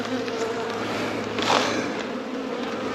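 Honey bees buzz at the entrance of a hive during an early-season check, a steady close hum that swells briefly before settling, with someone speaking faintly beneath it.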